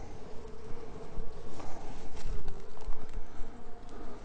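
Honey bees drone steadily at an open Layens hive during a spring inspection after winter, a dense continuous buzz close by with small bumps and scrapes from the frames.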